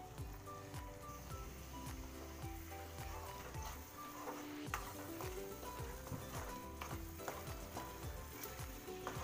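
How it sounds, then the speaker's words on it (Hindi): Green peas tipped into a pan of sizzling fried tomato for matar paneer, a steady frying hiss with stirring scrapes and spoon clinks throughout, close and fairly loud with no talking. "अब इसमें हम डाल देंगे मटर। ये मटर हम डाल देंगे।"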